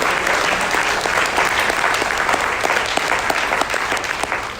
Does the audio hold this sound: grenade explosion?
no